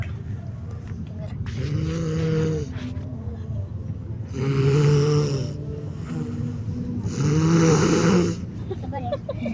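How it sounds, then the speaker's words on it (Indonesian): A person snoring loudly indoors, three long rasping snores in a slow rhythm, close to the microphone, with quieter breathing between them. "Guys, ada yang ngorok."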